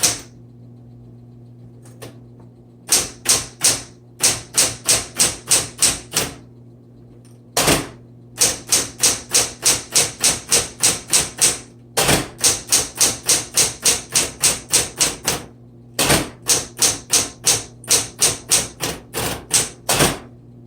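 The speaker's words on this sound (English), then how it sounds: "There are 3 keys on a typewriter that have an auto repeat, and it's the dash, the period, and the X." A 1970s Smith Corona electric typewriter hammers out rapid auto-repeat keystrokes in steady machine-gun runs, loud and close, separated by brief pauses and heavier thuds as the runs restart.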